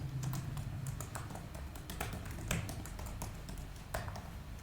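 Commands typed on a computer keyboard in a quiet room: steady, irregular keystroke taps with occasional sharper presses, close and fairly faint, no voices.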